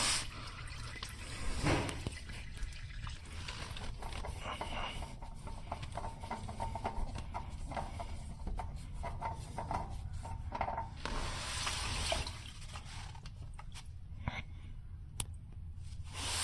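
Motor oil drains from the oil pan of a 2014 Hyundai Sonata, a quiet, continuous liquid trickle and patter with occasional drip-like ticks and faint rubbing noises, heard up close in an otherwise still space.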